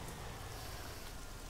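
Steady rain falls in the military shooter game Arma, a dense, even hiss of drops hitting surfaces that holds constant with no gaps and no voices over it.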